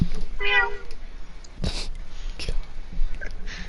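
A person briefly imitates a cat meow during a racing league broadcast, a short close voiced mew, followed by scattered clicks and faint background noise.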